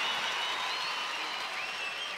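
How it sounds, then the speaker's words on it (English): A television studio audience applauds a female Australian Gladiators contestant after her eliminator run, a dense, steady wash of clapping with no voices. "I think a big round of applause for Astrid."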